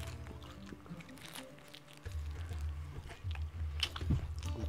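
Crispy folded brick pastry filled with Boursin being bitten and chewed up close, with irregular crunchy bites and squishy chewing that grow louder toward the end, and no talking.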